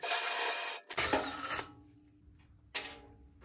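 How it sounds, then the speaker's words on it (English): Deburring a freshly drilled hole in an aluminium header tank top cap, giving rough rasping strokes: two long scrapes close together, then a pause and one short final stroke. "With this drilled, we need to remove any burrs that might interfere with the fitting and welding of the cap."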